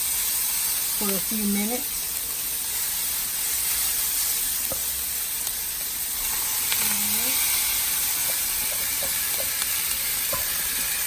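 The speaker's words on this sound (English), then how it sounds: "Now it's time to put the veggies on the nice little griddle we have" Vegetables for keto chicken fajitas sizzle on a griddle in a steady, loud hiss and crackle, with brief stirring or scraping sounds and a voice talking over the cooking.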